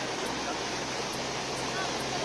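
Swollen small stream in Uttarakhand, overflowing after heavy rain, gives a steady broadband rush of water that carries on without a break at moderate level, with no one speaking over it.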